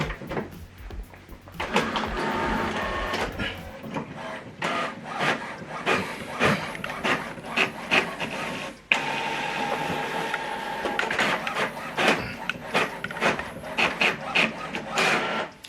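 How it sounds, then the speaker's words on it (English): An HP Officejet inkjet printer runs a double-sided print job, with steady whirring and feeding noises, rhythmic mechanical clatter and a brief break as the sheet reverses, heard close and continuous. "Now this document is printing."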